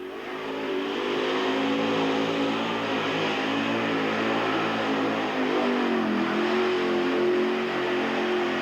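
A Bigfoot monster truck engine revs hard and steadily, loud and close, in a sustained roar with a brief dip near the middle before climbing again, and no voices over it.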